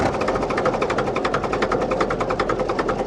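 A two-cylinder petrol starting engine on a vintage tractor at a vintage show ticks over in a fast, steady, even chug, loud and close, with no voices.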